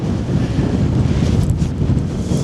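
Strong, steady wind roars and buffets the microphone on Wether Hill, an exposed fell summit in the Lake District, a constant loud rumble with no break and no talking.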